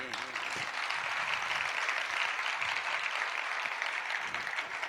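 A crowd claps steadily and densely throughout a Jain religious discourse, a sustained wash of applause with a voice faintly audible underneath.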